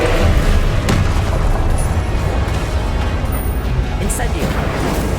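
A fiery Confringo blasting spell explodes in Hogwarts Legacy, a loud sustained booming rumble with dense crackling blasts layered over continuous combat noise and voices.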